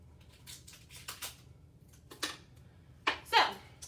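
Scissors cut through cardboard tubes wrapped in packing tape, making a few faint, sharp snips and crunches spaced apart in a quiet room, with the last two closest together.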